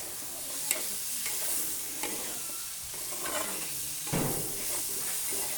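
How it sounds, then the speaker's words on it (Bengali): Boiled chickpeas being stirred into a spice masala in a pan, with a steady sizzle and repeated scraping strokes of a spoon roughly every second, close by with no talking. "এই দিয়ে দিলাম বুটগুলো মশলার সঙ্গে। এখন কষাবো"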